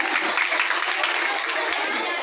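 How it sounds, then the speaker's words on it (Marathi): An audience at a Ganesh festival singing competition bursts into steady, dense clapping for a young singer, a brief continuous wash of applause heard alone. "हा अनुष्कासाठी तर जोरदार टाळ्या"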